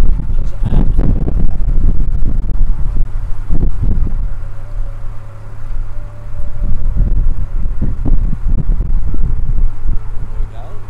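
Heavy traffic on London's North Circular road roars steadily from below a canal narrowboat, with gusting wind buffeting the microphone and someone talking over the rumble.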